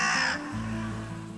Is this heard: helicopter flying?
no